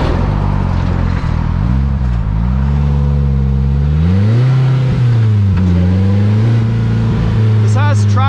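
The 2-liter four-cylinder engine of a 2022 Polaris Slingshot S drones loudly up close, climbing in pitch as it revs through the gears with a brief dip between shifts.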